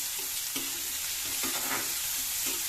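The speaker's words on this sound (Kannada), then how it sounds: "ಹೈ ಫ್ಲೇಮ್ ಇಟ್ಕೊಂಡ್ರೆ ಫ್ರೈ ಮಾಡ್ಕೊಳ್ಳಿ" Cut vegetables, including carrot, stir-fry over high flame for veg chowmein, with a steady sizzle and several scraping stirs of the spatula in the pan, close and without talk.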